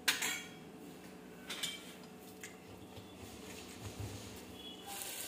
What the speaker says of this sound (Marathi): आता हे मॅश करून घेते मी.